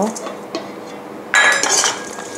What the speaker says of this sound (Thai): จะเคล้าให้เข้ากันนะคะ